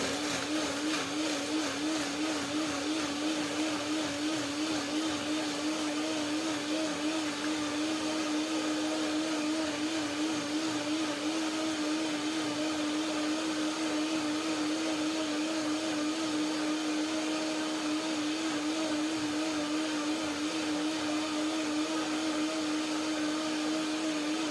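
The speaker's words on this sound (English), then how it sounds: "So I will blend it now" A countertop blender runs steadily, whirring through fruit and almond banana cream with a lime, a loud constant motor whine with no talking.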